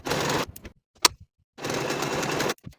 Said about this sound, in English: we can finish the bottom half of the seam from the notch to the bottom of the garment for the main and the lining